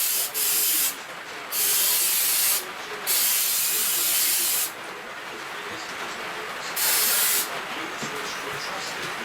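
Spray coating is applied heavily around a wall stud in several long, loud hissing bursts with short pauses between them, close by and with no voices over it.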